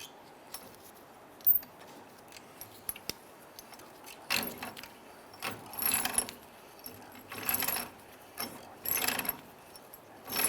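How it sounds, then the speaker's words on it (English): Wrench turning on a ball joint stud of a 1999-2004 Jeep Grand Cherokee: a run of quiet metallic clicks and ratcheting bursts, close and fairly faint, coming in short irregular groups without talk. "Now I'm going to use my wrench. I'm just going to pop it on the ball joint stud."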